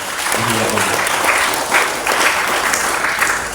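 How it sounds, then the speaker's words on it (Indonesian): An audience at a civic gathering in Banyumas claps steadily for the regent and vice regent, a dense, even round of applause with a few faint voices mixed in. "Tepuk tangan untuk Pak Bupati dan Ibu Wakil"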